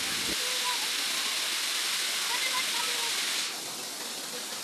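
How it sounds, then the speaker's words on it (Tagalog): Waterfall at Hinulugang Taktak in Antipolo, Rizal, a steady roaring wash of falling water that stays loud and continuous, easing slightly toward the end. "Napakagandang falls."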